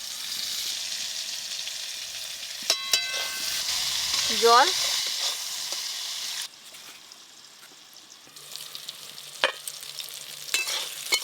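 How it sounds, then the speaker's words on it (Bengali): Eggplant pieces fry in a pan while being stirred, with a continuous sizzle under scraping and clattering of the utensil, plus occasional sharp knocks. A voice is heard briefly. "আমি বেগুনটা নেড়ে দিই।"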